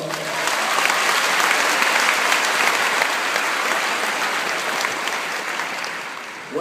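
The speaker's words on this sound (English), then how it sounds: "Please give the faculty a huge round of applause." Sustained applause from a large graduation audience at Carnegie Hall honoring the faculty, dense and steady for several seconds before tapering slightly at the end, with no speech over it.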